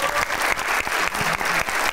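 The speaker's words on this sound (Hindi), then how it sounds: "तालियां" An audience at a Hindi game-show style quiz event bursts into loud, dense applause, a continuous close clapping that lasts the whole moment.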